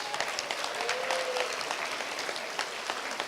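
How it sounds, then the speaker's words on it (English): Round of applause from an awards-show audience honouring yearbook cover designers, a steady, moderately quiet patter of many hands clapping, with a brief faint voice or whistle-like tone mid-way. "So let's give them a big round of applause."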